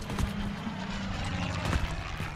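A helicopter's rotor thrums steadily with rhythmic low chopping in Call of Duty: Modern Warfare, close and continuous with no voices over it.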